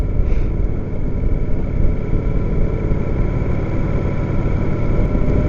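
Kawasaki motorcycle engine running steadily while being ridden, a loud, continuous drone with constant road and wind noise and no pauses across the whole stretch.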